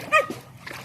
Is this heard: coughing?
no